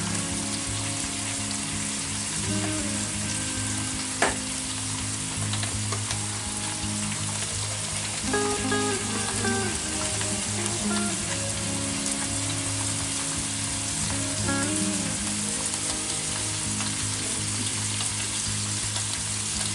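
Seasoned hamburger meat for homemade chili fries in a pan with a constant close sizzle and crackle, plus a few scraping stirs and one sharp clink.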